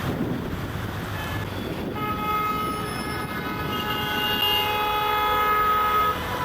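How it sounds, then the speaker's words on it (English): Car horns honk in Naples street traffic, with several sustained horn tones overlapping and layered over a constant wind-buffeted street rumble. "Everyone honks their horn here too."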